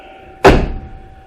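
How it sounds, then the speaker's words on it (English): The door of a 1967 Ford Galaxie swings shut with a single solid, close thunk that decays quickly, over a faint steady hum, with no talking. "you see how nice that door shuts?"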